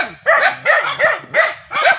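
Several dogs bark in repeated bursts, four loud yapping volleys close by with short pauses between them, no talk over them.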